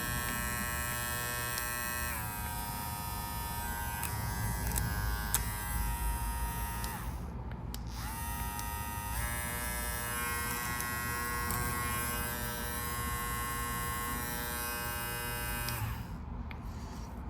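A Babyliss Pro Tomb45 hair clipper runs at its highest speed with a steady close electric buzz, briefly cut out and restarted twice, with no talking over it.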